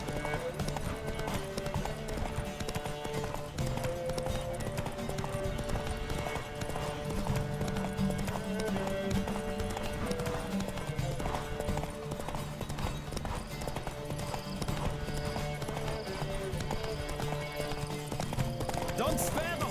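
A horse gallops steadily in a race in The Witcher 3, its hooves drumming in a fast, continuous rhythm under game music, with a rider's voice and brief whinnies now and then.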